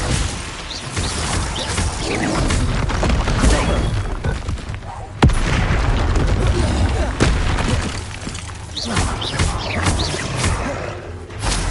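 Spell blasts in Hogwarts Legacy during a troll fight land as heavy booming explosions and crashing impacts one after another, loud and dense, with a voice heard over the fight.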